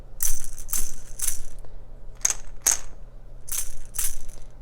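Bursts of dry rattling from a shaken Montessori sound cylinder, like small grains inside a closed cylinder, come in several quick clusters with brief pauses between them. No voices are present.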